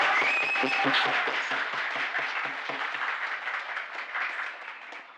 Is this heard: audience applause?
yes